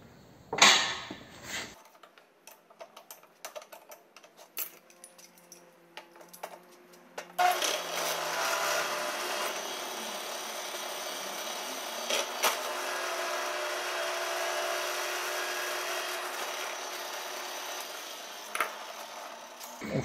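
Metal die being drilled through in a workshop, a steady whirring grind that starts after scattered clicks and handling noises and runs continuously at moderate level to the end, with no talk.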